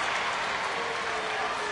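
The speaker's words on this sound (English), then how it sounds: "These fans have really been into it tonight" Steady wash of crowd applause and cheering at a baseball game in Houston's stadium, heard at a distance as continuous noise with faint commentary beneath.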